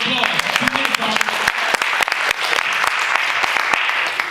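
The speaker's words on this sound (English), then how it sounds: "Barbara Jean Thomas, give her a round of applause." Round of applause from the audience at a Democratic club meeting in East Cleveland, a dense, steady patter of many hands clapping throughout, moderately loud and close, with no talk over it.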